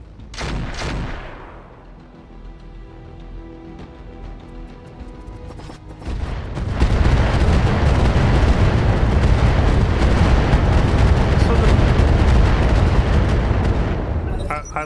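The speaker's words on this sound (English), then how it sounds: "I love that turret firing off 90 missiles and missing every single missile." A turret in the BattleTech Advanced Universe mod fires a long missile barrage, a loud continuous roar of launches and blasts that swells after a quieter stretch of game noise, with voices earlier in the clip.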